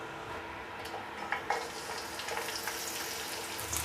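Garlic sautés in hot cooking oil in a pot, a steady close sizzle and crackle that runs the whole time, with a few light scrapes of stirring and no talk.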